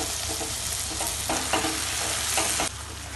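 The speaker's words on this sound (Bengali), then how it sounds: "দিয়ে খুব ভালোভাবে মশলাটা এভাবে করে নাড়াচাড়া করে নিতে হবে" Masala with four slit green chillies stirred and fried in a pan for prawn do pyaza, giving a dense, loud continuous sizzle broken by a few short scraping strokes close by, no talk.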